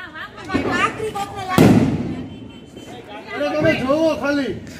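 Firecrackers bursting during Diwali in a village, a sharp close bang and a couple of lighter pops heard among people talking and calling out nearby.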